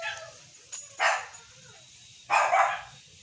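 A dog barks twice, close and fairly loud, with a quieter yip just before, over a low background murmur at a barangay pet vaccination event.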